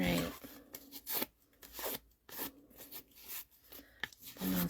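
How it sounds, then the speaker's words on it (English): Paper crumpled by hand for a handmade birthday card, close crinkling and crunching in uneven bursts separated by brief pauses. "The more you crumple it, the better it looks."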